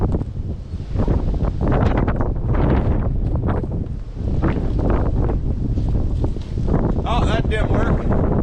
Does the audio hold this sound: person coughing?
no